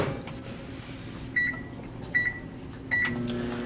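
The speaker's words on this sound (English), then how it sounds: "We set the microwave for 20 seconds and start it up." A microwave oven with tin foil inside hums steadily for 20 seconds, while three short electronic beeps sound at roughly even intervals over the drone.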